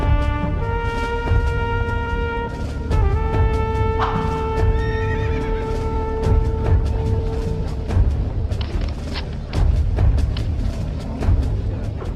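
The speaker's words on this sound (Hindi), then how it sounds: "ये वही घोड़ा गाड़ी है जिसे हम सुबह ट्रैक कर रहे थे" A horse pulling a carriage neighs and whinnies repeatedly in long, loud, tonal calls, with clip-clopping hooves and steady background rumble throughout.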